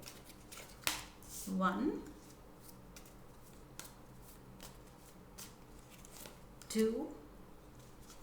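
Tarot cards are shuffled and drawn during a love reading, giving two short papery riffles a few seconds apart while a voice speaks nearby and quietly counts.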